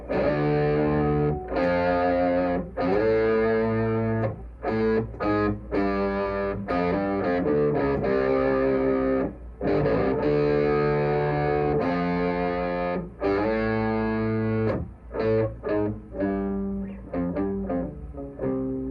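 An electric guitar plays a riff with a thick, doubled, distorted tone, the chords ringing out in choppy bursts with brief gaps.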